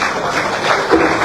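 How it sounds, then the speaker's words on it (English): Audience applause at a Liberian presidential event launching a digital payments system, a short dense burst of clapping that stays fairly loud and even throughout with no clear voices. "Your clap for that again."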